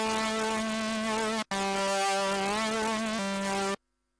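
Dry ISILY2 synth preset from a preset pack, unprocessed: a bright, buzzy sustained lead tone holding notes with a slight pitch shift, a quick cut near the middle, then ending abruptly into silence, alone with no talk.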